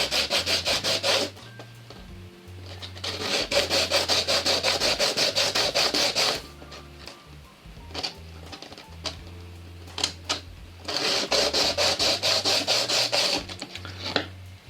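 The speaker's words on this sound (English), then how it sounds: "I'm just going to rub it up and down a bit of sandpaper on a flat surface." A small guitar part from an Epiphone Dot ES-335 is rubbed back and forth on sandpaper laid on a flat surface, giving rhythmic, scratchy strokes in repeated bursts with brief pauses, over quiet background music.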